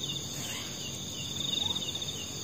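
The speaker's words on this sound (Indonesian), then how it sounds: "Itu kodok, menandakan kodok banyak." Frogs croak at night in a steady, continuous chorus that holds at an even level throughout, with a brief swell of pulsing calls near the middle and no voices.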